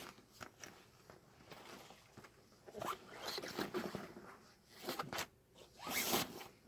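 A briefcase zipper pulled open in several quick rasping bursts, close and moderately loud, with small handling rustles between the pulls and no talking.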